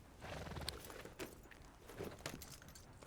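A horse in Red Dead Redemption 2 clops along at a steady pace, with a brief whinny and a faint jangle of tack. The sound is quiet throughout.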